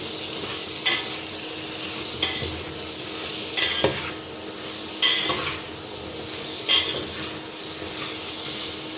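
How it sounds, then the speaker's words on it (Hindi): Vegetables with masala being fried and stirred in a pan: a continuous sizzle underneath, with periodic scraping and clinking strokes of a spoon against the metal roughly every second or so, close by. "सब्जियों को कुछ इस तरीके से हम भून रहे हैं"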